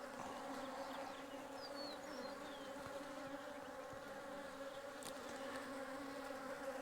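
Carniolan honey bees buzz around an open hive during an inspection of splits, a dense steady drone from many insects with a few individual bees darting close by.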